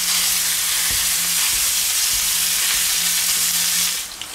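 Ground beef sizzles loudly and steadily in a hot pan on a grill, with occasional soft scrapes of stirring, close up and without talk, dying away at the very end.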